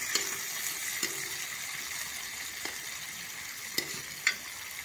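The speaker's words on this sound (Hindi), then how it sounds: "ऐड कर रहे हैं टमाटर।" Tomatoes frying and being stirred into a pumpkin, potato and chickpea curry, a steady soft sizzle with a few sharp clicks of a spoon against the pan.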